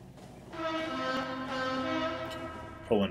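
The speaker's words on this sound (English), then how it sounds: "I'm going to need a train to pick me up here." A train in the factory-building game Factorio pulls in with a sustained, steady horn-like tone over rolling rail noise, ending in a brief burst of higher sounds.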